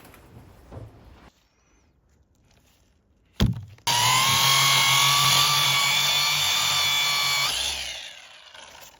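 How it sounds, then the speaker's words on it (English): Rotary polisher buffing car paint with D3 compound during paintless dent repair, a loud high-pitched whine that spins up after a brief clunk, holds steady for about four seconds, then winds down. "I just use the rotary with some D3 compound."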